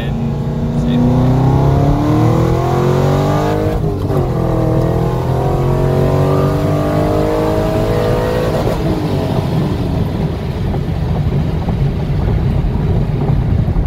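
A C5 Corvette Z06 fitted with a Texas Speed Torquer 4 cam pulls hard from about 30 to 100 mph, its V8 roaring loud and close as the revs climb through the gears, with rising engine tones breaking at each shift.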